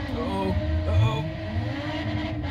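A minivan engine drones in a racing video game, a steady hum whose pitch rises and falls as it revs through the short stretch.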